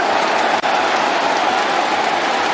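A large crowd at a Counter-Strike esports match cheers loudly and steadily, a dense roar that fills the whole moment.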